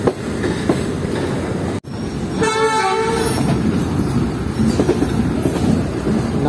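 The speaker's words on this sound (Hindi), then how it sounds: "चलती ट्रेन से उतरे और चलती ट्रेन में चढ़ेंगे" The Tezgam train in Pakistan rolls along with a steady rumble and rhythmic clatter of wheels on rails, loud and close, and a horn-like tonal blast rising partway through.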